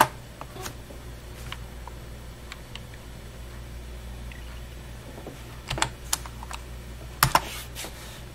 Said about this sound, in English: we have to type in sudo apt-get